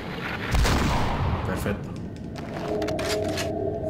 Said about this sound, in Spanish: Vamos a usar la escopeta.